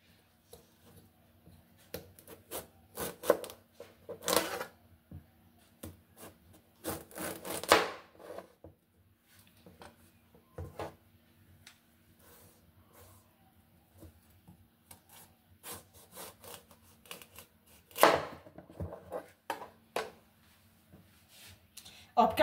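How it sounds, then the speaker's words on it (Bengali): A knife cutting through a tender bottle gourd, with faint scraping and slicing strokes that come in scattered bursts against a quiet room. "কেটে নিচ্ছি। লাউটা খুব কচি একদম।"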